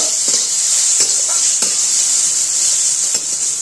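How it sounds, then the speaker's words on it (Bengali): Mango pieces are stirred into a loud, hissing spice tempering in a pan for a fish-roe chutney, with a constant bright sizzle under scattered scraping and tapping strokes of a spoon. "আমটাকে একটু এর সব ফোড়নের সঙ্গে মিশিয়ে নেব"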